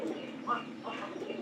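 A pigeon cooing close by: a short, soft, throaty coo with a rolling low rumble, alone in a quiet setting.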